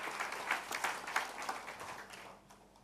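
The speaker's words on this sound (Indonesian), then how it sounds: "Kita beri tepuk tangan buat Tuhan Yesus." Congregation in a church claps, a short burst of applause at moderate distance that fades away after a couple of seconds.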